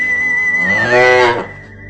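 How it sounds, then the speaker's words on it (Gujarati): An Indian humped desi cow (Bos indicus) gives a single loud, close moo that rises in pitch and swells before cutting off, heard alone with no talk. "એ આપણી દેશી ગાય છે."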